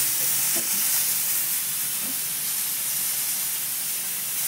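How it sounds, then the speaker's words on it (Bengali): Ground spices, chilli, turmeric and cumin powder, fry in a pan with a dense, continuous sizzle and hiss that holds close and steady throughout, with a few faint scrapes. "মশলাটাকে ভালো করে পাকিয়ে নেওয়া হচ্ছে"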